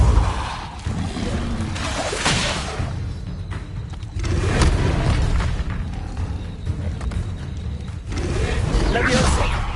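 Repulso spell being cast in Hogwarts Legacy, a burst of blasts and whooshing impacts in busy game audio, with spoken incantations over the effects.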